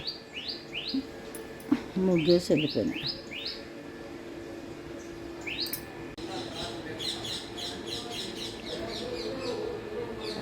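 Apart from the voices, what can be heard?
birds chirping outdoors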